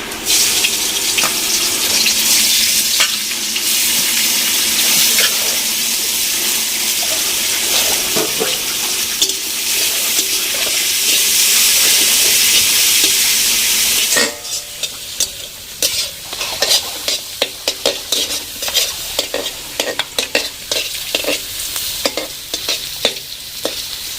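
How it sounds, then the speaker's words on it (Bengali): Sliced onions for biryani birista hit hot oil in a pan over a clay stove, giving a loud, roaring sizzle for several seconds, followed by quieter crackling and repeated clattering stirring strokes. "তেল গরম হয়ে গেছে, এই তেলের মধ্যে আমরা এই পেঁয়াজগুলো দিয়ে দেবো।"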